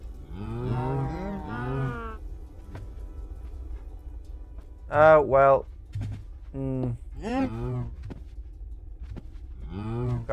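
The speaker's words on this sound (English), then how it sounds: "So get some cows in here." Cows in the Minecraft video game moo repeatedly and loudly, with several long drawn-out calls that overlap brief speech over a steady low background hum.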